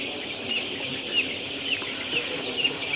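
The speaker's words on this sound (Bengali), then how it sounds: "পানির তৃষ্ণাতে মুরগিগুলো ছটফট করে" Poultry chickens cluck and mill about as water is set down for them after being kept thirsty before vaccination, with soft repeated clucks and short calls over a steady close flock murmur.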